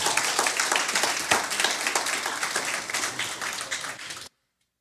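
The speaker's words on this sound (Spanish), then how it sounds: "Puede darle el aplauso al Señor." A church congregation applauds in a dense, steady wash of clapping with a few sharper claps, holding at an even level for about four seconds before cutting off abruptly to silence.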